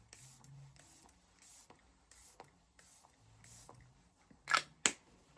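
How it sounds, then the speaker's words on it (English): Cherie makeup setting spray is misted onto a face in two quick, airy spritzes near the end, following quiet handling sounds. "give it a few wee sprays just to set everything in place"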